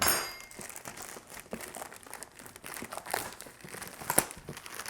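The plastic bag around an arcade stick's packaging crinkles and rustles as it is cut open, with close, continuous crackling and a few sharper snips and clicks, and no talking.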